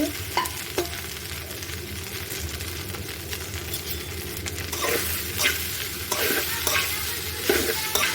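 Crumbled idli is tossed into a hot pan with a little sizzle and stirred steadily for idli upma, a spoon scraping and clinking against the metal pan in a continuous, close-up rhythm.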